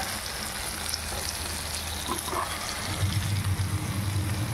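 Ridge gourd is stirred with mustard, poppy seed and green chilli paste in a frying pan, a soft steady sizzle and bubbling with occasional stirring scrapes, rising slightly toward the end.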